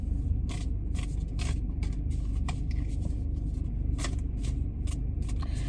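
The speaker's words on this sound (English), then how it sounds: "So let's pull a card." Tarot cards from the Linescapes deck are shuffled with rapid riffling flicks over the steady low hum of a car waiting in a drive-thru.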